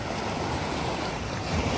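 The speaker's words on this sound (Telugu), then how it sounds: "ఇలా నీట్గా క్లీన్గా ప్రశాంతంగా పొంగుతుండే సముద్రాన్ని చూస్తే" Calm sea waves off a beach in Samoa wash in a steady, continuous roar, mixed with some wind noise across the microphone.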